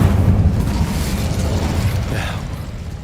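A fire spell, Incendio, cast in a Harry Potter wizarding video game, bursting with a loud whooshing rumble that fills the whole moment and then fades into a low crackling roar.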